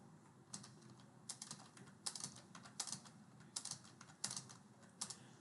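Keys on a computer keyboard are tapped in quick irregular clusters, a mix of backspace and space presses, crisp and close but quiet, with no voices.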